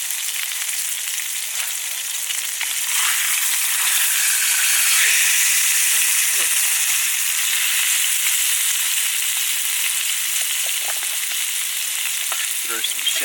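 Shallots and green beans sizzle steadily in a hot pan at a snowy hot-tent campsite, a loud continuous hiss with faint clinks near the end and no talk.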